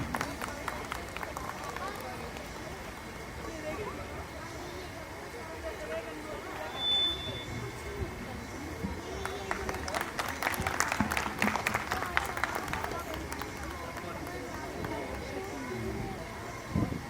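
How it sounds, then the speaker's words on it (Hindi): An audience at a Janmashtami Mahotsav festival event applauds to welcome a guest. Scattered clapping swells into a louder burst midway, set against crowd murmur and a speaking voice. "एक बार जोरदार तालियों से स्वागत करते हैं परवेश वाही जी का।"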